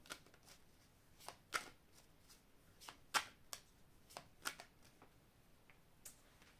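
A deck of oracle love cards is shuffled by hand in a quiet room, giving soft, irregular riffling slaps and sharp card snaps up close, with no talk.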